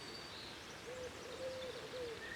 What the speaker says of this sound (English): The old wood pigeons in the background.